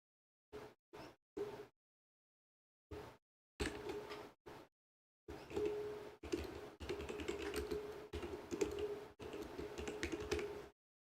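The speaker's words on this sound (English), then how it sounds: "I have to keep typing to keep the kitty happy." Typing on a computer keyboard during coding work: quiet, clipped bursts of key clicks separated by pauses at first, then denser, more continuous runs of keystrokes, with no voices.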